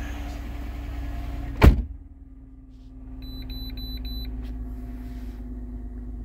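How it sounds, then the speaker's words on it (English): A single sharp car door slam on a 2010 Ford Fusion over a steady idling engine rumble, followed by quieter cabin hum and a few faint electronic beeps. "we're gonna close the door"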